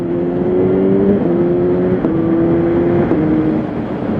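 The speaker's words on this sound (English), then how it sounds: "So the clutchless upshift is working." A 2018 Kawasaki H2 SX SE motorcycle engine pulls steadily and loudly, with its tone dropping at each of about three clutchless upshifts as it accelerates through the gears.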